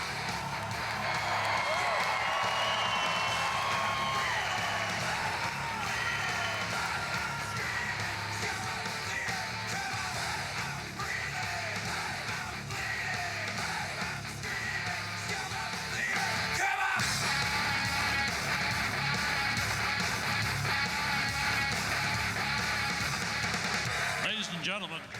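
The crowd at an RCMP tattoo's Mounted Arms competition yells and cheers continuously in a large arena, with scattered clapping, a long roar of shouting and an announcer's voice over it.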